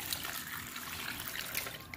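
Water poured into a pot holding molasses candy while making mango preserves, a steady continuous splashing stream heard close up with no talking.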